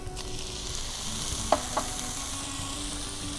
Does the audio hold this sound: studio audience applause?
no